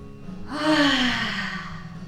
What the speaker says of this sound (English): Let's take a deep inhale through our nose, and let's exhale in a ha